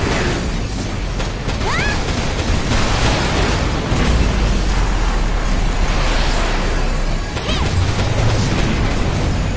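Bazooka shots and explosions in Daemon X Machina, a dense, loud, continuous barrage of booms and mechanical clatter with no clear gaps.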